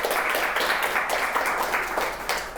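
Dense, steady applause from a business retreat audience at an opening keynote, many hands clapping together in a continuous loud wash filling the room.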